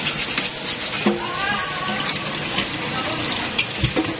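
A lobster is rinsed under running water, giving a continuous close splashing and gushing with occasional knocks as it is handled, and some voice faintly underneath.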